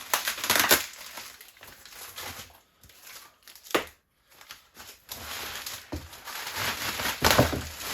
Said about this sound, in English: Get the bubble wrap out of the way.